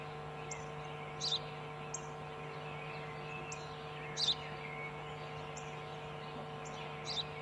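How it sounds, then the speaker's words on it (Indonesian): A sparrow gives short, bright chirps in a loose repeating pattern, a few of them doubled and a bit louder, over a constant electrical hum, with no voices. "Ένα σπουργίτι. Burung gereja."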